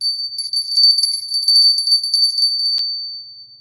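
A small angel bell rings close and bright, with rapid repeated tinkling that ends in a final strike and then a short ringing decay.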